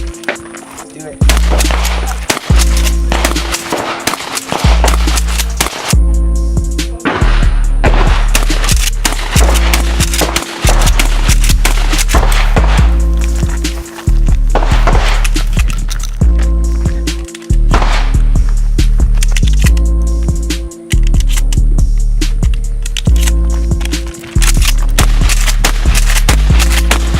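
A Mossberg Maverick 88 pump shotgun fires buckshot outdoors, with loud, sharp blasts repeating every second or two over a steady low background hum.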